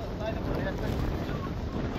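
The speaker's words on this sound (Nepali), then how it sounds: "कस्तो दामी हावा चल्यो यार।" Wind rushes across a hiking trail on Daedunsan mountain near Daejeon, South Korea, a brief steady roar buffeting the microphone at close range.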